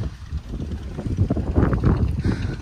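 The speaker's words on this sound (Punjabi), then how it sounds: "ਬੜੀ ਸੋਹਣੀ ਹਵਾ ਚੱਲ ਰਹੀ ਹੈ" Steady wind buffeting the microphone with a loud, rumbling low roar that rises and falls throughout.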